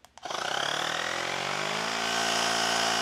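A loud, steady motorized whine from an Auxito portable electric air pump starts after a couple of brief clicks and runs continuously, its buzzing pitch settling slightly lower over a few seconds.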